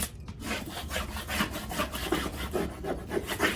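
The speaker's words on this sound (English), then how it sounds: "So I'm going to burnish my whole transfer with this stick." A wooden stick rubs firmly back and forth over a transfer sheet on a mixed media floral painting, a continuous close scratchy burnishing with rhythmic strokes.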